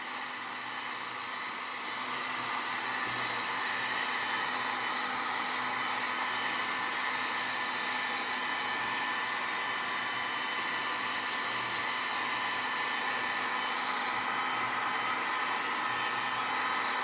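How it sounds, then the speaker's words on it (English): A heat gun blows steadily on a leather work glove to preheat it, a constant loud airy whoosh with a faint motor hum underneath, running without a break. "so you got to be super careful with the heat gun"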